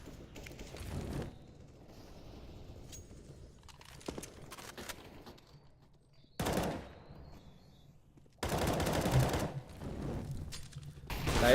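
Bursts of rapid automatic and single gunshots from a Counter-Strike match crackle in loud clusters separated by quieter stretches, with a commentator's voice talking between and over the firing.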